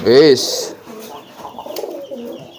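A domestic pigeon gives a short, loud courtship coo during giring training, followed by quieter low murmuring sounds nearby.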